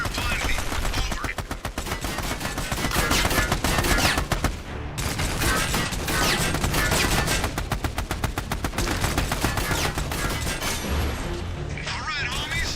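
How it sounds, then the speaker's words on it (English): Dense, sustained video-game gunfire of suppressive fire, with rapid automatic bursts and overlapping shots that run almost nonstop at high volume, plus a brief lull near the middle and voices partly buried in the din. "the main thing to work on here is suppressive fire. Basically, keep yourself behind cover and fire blindly."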